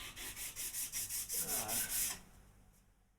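A piece of wood is sanded by hand with 150-grit sandpaper in about ten quick, even back-and-forth strokes. The strokes are close and fairly quiet, then stop and leave a short fading scrape.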